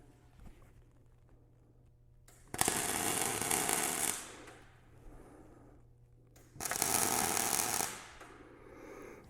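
Two loud bursts of crackling, buzzing welding, each about two seconds long, tack a ground rod driver together, with quiet shop noise in between.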